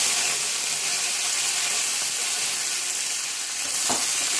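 Halved red chilli and curry leaves sizzle steadily in hot oil with cumin, a dense, close frying hiss that holds even throughout, with one soft knock near the end.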